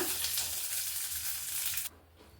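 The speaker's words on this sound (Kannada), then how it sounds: "ಚಟ್ನಿಗೆ ಮಾಡಿಟ್ಕೊಂಡಿರೋ ಒಗ್ಗರಣೆ ಹಾಕ್ಕೊಳ್ತಾ ಇದ್ದೀನಿ" Hot tempering of curry leaves in oil sizzles loudly and steadily as it is poured over coconut chutney, then the hiss drops away abruptly near the end.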